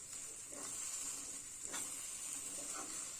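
Spices frying in oil for a green chilli potato gravy give off a faint, steady hiss and sizzle, with a few soft stirring scrapes and no talking.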